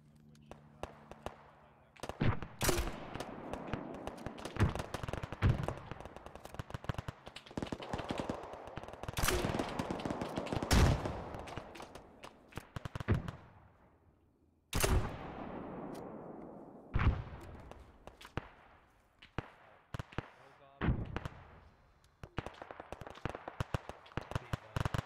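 Gunfire fills an Arma 3 combat operation: dense bursts of automatic and machine-gun fire crack at close range in long rattling volleys, broken by heavy single booms and brief lulls.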